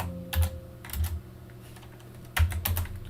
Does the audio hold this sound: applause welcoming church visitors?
no